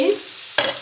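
Potatoes frying in a pan get a quick stir, two short scraping bursts over a faint sizzle.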